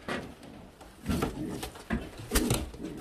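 A Modena pigeon coos close by in a bird loft, with soft rolling coos repeated in uneven bursts over faint background rustling.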